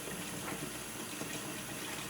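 Water running from a sink tap into a pot of rice, a steady hissing gush that fills the whole stretch, close and even, with no talk.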